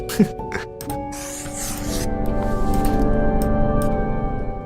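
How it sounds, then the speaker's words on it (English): A dental drill grinds on a patient's teeth in the video game Death and Taxes, a sustained rasping, scraping whir that swells and continues over tonal background music, after a few short clicks at the start. "Just drilling random teeth on patients. It's a video game."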